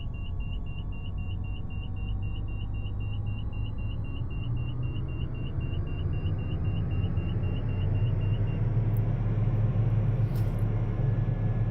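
Aircraft engine in a flight simulator game throttling up, a steady loud rumbling drone that builds slightly over time, with a faint high-pitched repeating beep running through most of it.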